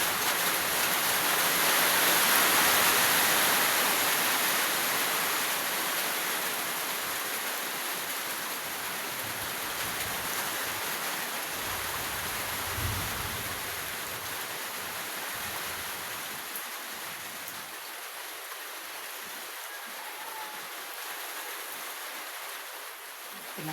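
Heavy tropical rain pours down outside a flooded house during an all-night thunderstorm: a loud, continuous roar of rain on surfaces that eases slightly over time, with low rumbles faintly underneath.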